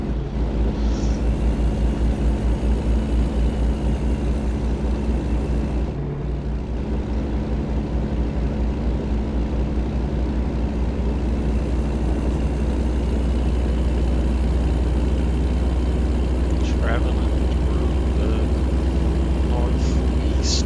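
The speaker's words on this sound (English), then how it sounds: "it's a nice, loud engine brake, whatever you want to call it." Heavy diesel engine of an International Workstar truck in American Truck Simulator, droning loud and steady with deep low rumble throughout, consistent with engine braking, with a brief dip partway and no talk.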